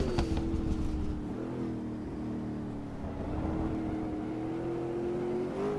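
A loud American race car engine in Automobilista 2 drones steadily throughout, holding a high sustained pitch with slight revving swells, close and continuous with no talk over it.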